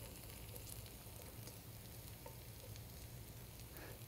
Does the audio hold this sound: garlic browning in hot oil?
yes